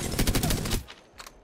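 The Prowler, an automatic weapon in the shooter game Apex Legends, fitted with a blue magazine and no stock, fires a rapid burst of loud, closely spaced shots followed by a short tail and a faint second pop.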